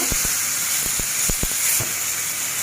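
Tomato fries slowly in oil under a lid over low heat, a constant close hiss with a handful of faint clicks and taps scattered through it, and no speech.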